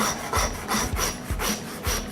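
Butcher splitting the saddle of a lamb carcass with a hand saw, loud rhythmic back-and-forth rasping strokes at a steady pace close by, no talk.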